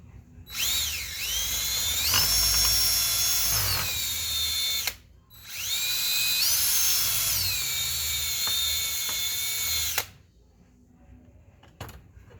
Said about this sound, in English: Try and drill that rivet.